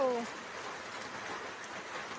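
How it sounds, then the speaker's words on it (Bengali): Steady rain falls as a soft, even broadband hiss throughout, with a brief tonal sound at the very start; no voices. "এতক্ষণে বাঁচা গেল, একটু বৃষ্টি নেমেছে গো।"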